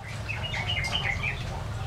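Zebra doves (perkutut) kept by a collector of katuranggan-type birds, calling in a series of soft, warbling coos and chirps over a steady low background hum, moderately near.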